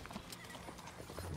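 Horse hooves clip-clopping in a role-playing video game, a quick run of crisp hoof knocks at close range with a faint whinny mixed in.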